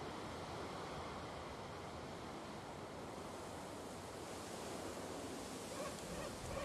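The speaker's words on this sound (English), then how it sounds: "There's the ocean." Steady ocean surf from the Valheim video game, a continuous broadband wash of breaking waves with a faint windy hiss, no voices over it.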